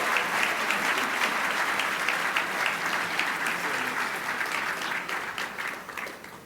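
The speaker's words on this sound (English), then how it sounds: "Let's give all of our Good Neighbor Award honorees another big round of applause." A luncheon crowd at a mayor's business celebration gives Good Neighbor Award honorees a round of applause: thick, continuous clapping that holds strong, then tapers off toward the end.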